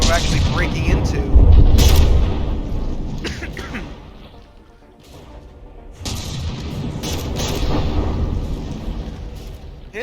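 Explosive shells from From the Depths striking a battleship, heavy booms and sharp cracks in a dense, loud barrage with mechanical clatter, easing off midway and then picking back up, with speech over it.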